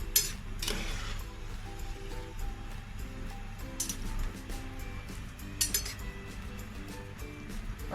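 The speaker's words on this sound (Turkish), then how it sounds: "iki tane kevgirle fasulyemi alt üst yapıyorum şöyle" Two metal skimmers turn boiled green beans in a pot for Giresun-style bean pickle: light metallic clinks and scrapes at an irregular rhythm, close and fairly quiet, over a low background hum.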